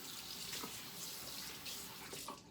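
Warm tap water runs steadily from a faucet while hair is rinsed, a continuous close hiss and splash with slight shifts in the flow.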